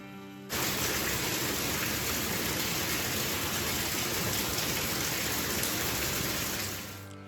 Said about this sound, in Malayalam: നല്ല മഴയായിരുന്നു കേട്ടോ